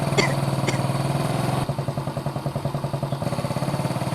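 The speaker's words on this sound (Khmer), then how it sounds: "ហើយពីណាគេជិះម៉ូតូមកហ្នឹង" A motorcycle engine runs close by with a steady, rhythmic putter as a rider comes up, with a few sharp clanks near the start and a brief drop in level partway through.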